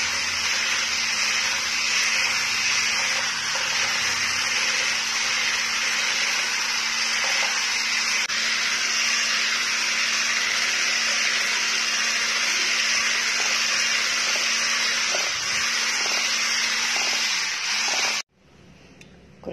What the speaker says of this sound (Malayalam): നമുക്ക് വിപ്പിംഗ് ക്രീം നന്നായി ബീറ്റ് ചെയ്തെടുക്കണം.